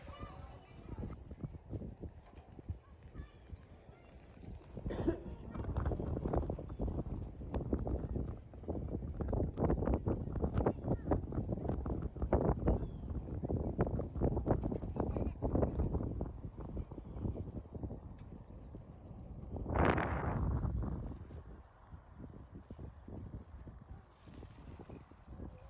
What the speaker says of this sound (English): windy day at the park.